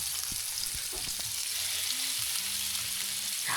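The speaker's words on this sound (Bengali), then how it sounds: "এখন আমি এখানে দিয়ে দিব আলু কুচিগুলো।" Thinly sliced potatoes drop into a frying spice paste for a bitter gourd curry, giving a steady close sizzle with a few soft stirring clunks and scrapes.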